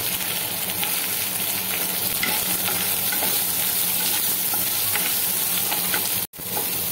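Onions go into hot oil with curry leaves and chopped ginger and fry with a loud, steady sizzle and occasional stirring. No one talks.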